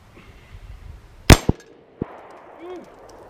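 Honor Defense Honor Guard pistol fired at a range: one sharp, loud shot followed by two quicker, lighter reports, with a faint ringing tail afterward and no talking.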